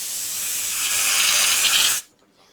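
A 0.6 airbrush sprays black model paint in a steady, close hiss that swells slightly and then cuts off abruptly, leaving near silence.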